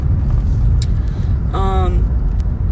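A car being driven, with a steady low rumble of engine and road noise throughout, a brief squeal of brakes near the middle, and no one talking over it.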